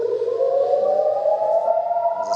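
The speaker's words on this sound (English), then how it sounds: "there's a siren" An air raid siren sounding a rocket-attack warning in Israel during the war with Hamas, a steady, loud wailing tone that slowly rises in pitch and holds without break, with no talk over it.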